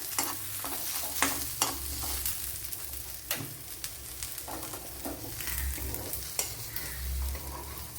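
Onions sautéing in a pan for a Kerala-style tuna fish dish, a soft steady sizzle broken by sharp scraping stirs of a spatula and occasional clinks, close and without talk.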